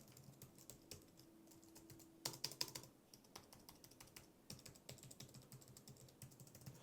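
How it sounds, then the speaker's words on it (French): Quiet typing on a low-profile wireless keyboard: soft, fast key clicks in irregular bursts, close and subdued, with no talking. "si vous voulez une petite idée du bruit de la frappe"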